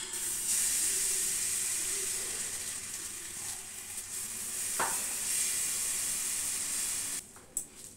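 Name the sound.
frying gola roti (batter flatbread) in a pan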